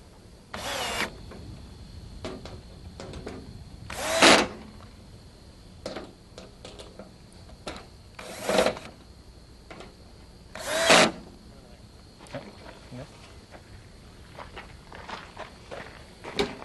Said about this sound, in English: tighten the screws down firmly